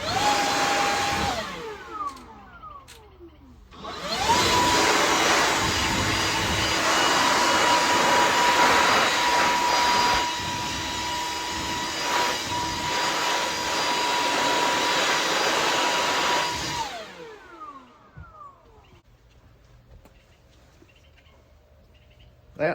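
Outdoors, air is blasted over a Broan exhaust fan motor in a loud, steady roaring whoosh lasting over ten seconds. Quieter bursts come before it and a fading tail after, with birds chirping faintly in the background.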